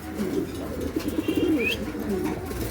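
Pigeons held for sale coo softly nearby, low throaty rolling calls repeating over a faint background hiss, with a brief higher chirp partway through.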